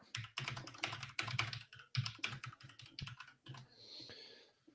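Typing on a computer keyboard, a quick run of close clicks and clacks in bursts with short pauses, ending in a faint high hiss.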